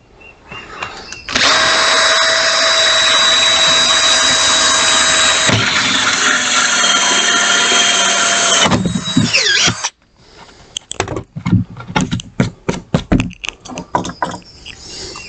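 A loud power drill whines steadily for about seven seconds as a hole saw cuts a hole while building a solar generator, then winds down, followed by scattered knocks and clatter.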